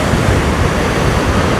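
Heavy ocean waves crash against rocks on the coast at Rabat, Morocco, a loud, dense, continuous roar of surf with wind buffeting the microphone.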